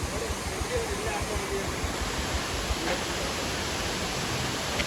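A roadside waterfall on a mountain ghat road near Kodaikanal, a dense, steady roar of rushing water filling the whole clip at constant loudness.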